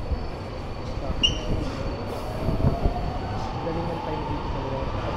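Train pulling into a station in Hungary, a rumbling rolling roar with a faint rising whine and brief high squeals, close and continuous, with voices murmuring faintly underneath.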